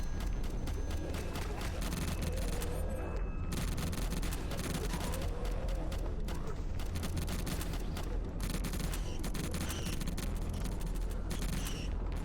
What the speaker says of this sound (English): That very much sounds like my guns are on.